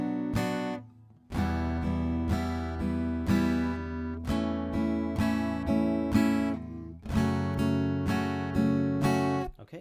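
Rhythm guitar is strummed in a repeating pattern, quick quaver strokes on beats one and two followed by a single held crotchet on beat three, clear and close with no talking.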